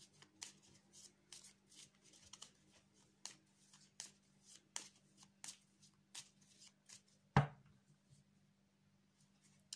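Tarot cards shuffled by hand in a steady run of soft riffling slaps, ending with one sharper, louder snap as the deck is cut.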